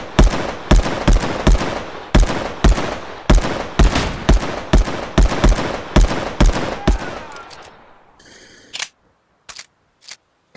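Rapid, evenly spaced Mosin rifle shots in a shooter video game, a steady burst of loud, sharp cracks over about eight seconds, then a few scattered fainter clicks and shots with brief silences between.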